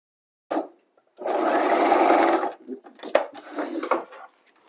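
A sewing machine runs in short bursts while stay stitching a patch pocket: a brief start, a longer steady whir of about a second, then several quick stop-start runs with small clicks between them.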